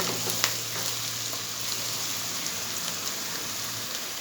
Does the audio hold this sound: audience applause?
no